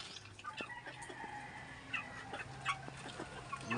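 Shamo chickens cluck and chatter inside a grow-out house, with overlapping short calls from several birds over a soft, steady background.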